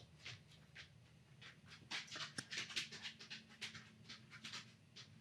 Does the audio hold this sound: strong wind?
no